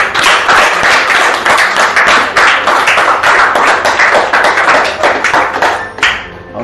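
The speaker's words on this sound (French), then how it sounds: "J'aimerais vraiment qu'on acclame tous les papas." A crowd applauds the fathers in a hall or gathering, dense steady clapping from many hands that stays loud throughout and then tapers at the end.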